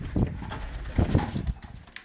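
Pigeons coo in low, throaty bursts close by in a coop, a couple of soft rolling calls over a murmur of background noise.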